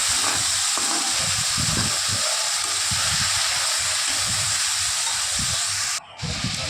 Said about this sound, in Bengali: কাঁচা লঙ্কা গ্রেট দেব আর দেব টমেটো বাটা দিয়ে মশলাটা ভালো করে কষাবো